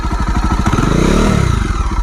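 A Jawa Perak 334cc bobber-style motorcycle idles close by with a deep, even thumping beat that swells briefly as the engine revs a little and then settles back to a steady chug.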